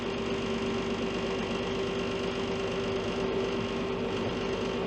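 A utility tractor engine running steadily as it starts moving slowly in gear, a constant close mechanical hum with a steady tonal drone and no speech.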